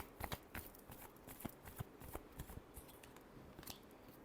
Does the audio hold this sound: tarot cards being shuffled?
yes